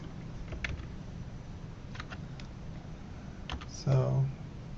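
Soft, sparse keystrokes on a computer keyboard typing a short word, a few light clicks scattered over a steady background hum, with a brief louder bump near the end.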